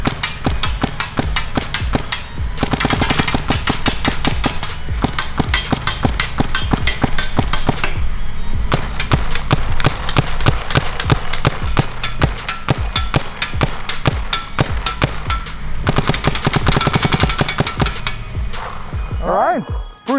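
Paintball marker in a shootout test, firing long rapid bursts of sharp pops in quick even succession, loud and close, with short pauses between strings.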